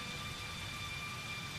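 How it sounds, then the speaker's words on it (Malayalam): Heavy monsoon rain falls during the Kerala floods, a constant, close, wash-like roar that stays level throughout with no talking. "മഴയുടെ ശക്തി കൂടി"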